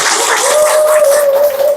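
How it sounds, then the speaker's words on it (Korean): Applause from the audience for a guest lecturer at a union members' training session, dense and steady for the whole moment, with a thin sustained tone running beneath it. "열강을 해주신 박경수 조직국장님께 다시 한 번 더 박수 부탁드리겠습니다"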